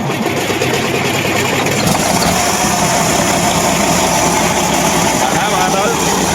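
A Primover truck engine with a troubled starter fires up and settles into a loud, steady idle close by, with people talking over the rumble.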